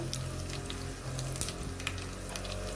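Dried red chillies and garlic frying in hot oil with cumin, a close, even crackling sizzle dotted with small pops, fairly quiet and steady, with no one speaking.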